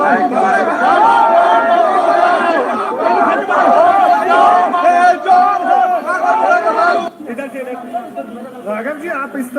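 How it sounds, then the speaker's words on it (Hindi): A crowd at a political protest in Punjab chants slogans loudly and close by, many voices shouting together in dense, overlapping bursts that briefly thin out before resuming. "चोर है के नारे लग रहे"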